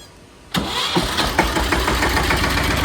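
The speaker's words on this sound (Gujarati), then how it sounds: "આપણે આ ટ્રેક્ટરમાં જ ચાલુ કરીને બધાને બતાવી" Captain tractor diesel engine cranking and catching after a short quiet lead-in, then settling into a loud, steady knocking idle close by, with no talk over it.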